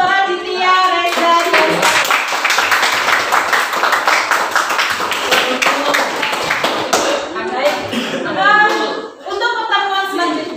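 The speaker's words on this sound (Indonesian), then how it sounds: "Tepuk tangan untuk Raditya, Reza." A classroom of students claps for a classmate, dense hand-clapping rising for several seconds and then thinning out, with voices talking and calling over it.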